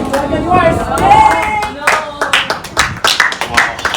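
A small audience applauds at a Survivor Wisconsin jury vote, with a burst of sharp, close claps in the latter half following voices and chatter.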